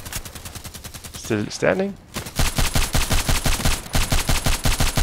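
Rapid, steady rifle fire from the DT SRS mk.2 in the video game Contract Wars, loud repeated shots in quick succession, broken by a brief pause where a voice speaks before the shooting resumes.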